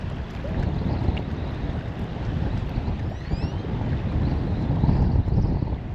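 Steady wind buffets a small fishing boat out on open water, a continuous broadband rush with low rumbling gusts that swell slightly toward the end, with no talking.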